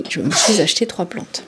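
A single sneeze bursts out amid a woman's French chatter, close and loud, with talking continuing right around it.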